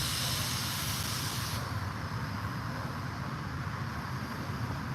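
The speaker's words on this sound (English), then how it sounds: "So a lot of the noise you're hearing is from the traction engine area." Continuous loud hissing of steam venting from a steam traction engine at an outdoor show, strong at first then settling into a steadier rushing noise.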